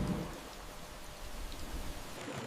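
Rain falling along the Zambezi river in Zambia during the dry season, a steady soft hiss of drops with a faint low rumble underneath, continuous and even throughout.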